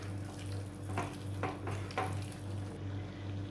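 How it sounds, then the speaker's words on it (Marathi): Paneer, onion and capsicum go into a hot pan and get stirred, giving a steady close sizzle over a low constant hum, with a few short scraping strokes of stirring standing out. "आता आपण ह्या ज्या भाज्या घेतल्या होत्या ना सगळ्या, पनीर, कांदा आणि शिमला मिरची, ती यामध्ये घालून घेणार आहोत आपण"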